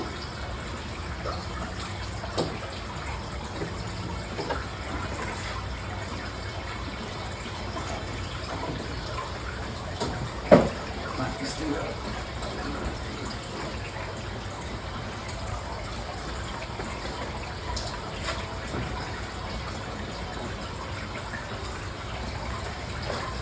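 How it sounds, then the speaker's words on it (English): Water from a garden hose pours into a fish tank in a fish room, a steady close gushing fill that runs on evenly with one brief louder splash partway through. "then I will fill it back up with just regular hose water"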